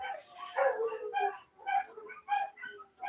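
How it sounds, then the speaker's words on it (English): A dog gives short, whining barks and yips in repeated bursts, close and fairly loud, with brief quiet gaps between calls. "So sorry about the dog, y'all."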